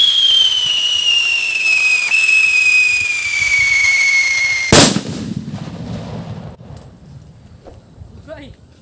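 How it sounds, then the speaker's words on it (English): A homemade whistle bomb firework built from a Yakult bottle lets out a loud, shrill whistle that slides steadily downward for several seconds, then ends in one sharp, close blast followed by a fading rumble. "Kundi Yakult Whistle Bomb"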